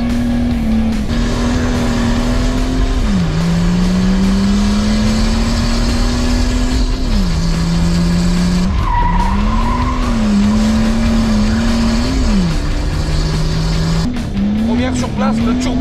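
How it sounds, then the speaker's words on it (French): A turbocharged car revs hard again and again, its loud engine note rising and falling while the turbo discharges with a sharp release. Voices shout over the constant engine roar. "Sur place, le turbo il décharge"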